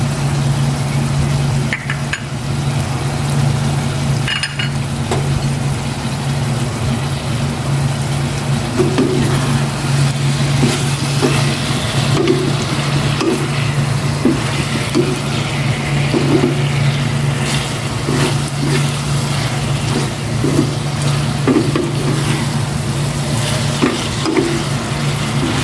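Eggplant and onion sizzle and fry in a pan for pork binagoongan, a steady loud crackle over a constant burner hum, broken by occasional scrapes and stirring clatters of a utensil against the pan.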